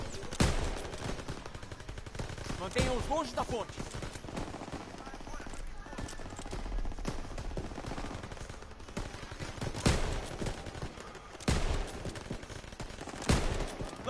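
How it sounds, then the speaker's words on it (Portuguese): Machine gun fire in a World War II campaign video game, bursts of automatic gunfire and explosions punctuating a continuous battle din while a voice speaks over the action. "Metralhadoras, abri fogo."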